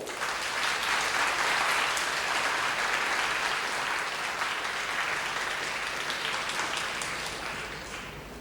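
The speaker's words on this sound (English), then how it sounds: "I'd like to give him a big round of applause when he comes to the podium" Sustained applause from a ceremony audience welcoming a retiring speaker at a valedictory event, a dense, even clapping that stays strong throughout and eases off slightly at the very end.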